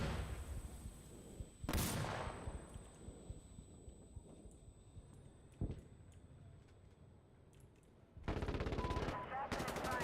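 Enemy gunfire in the video game Arc Raiders: a sharp shot or two early, scattered distant pops, then a loud rapid automatic burst near the end, with a thin high electronic tone running beneath.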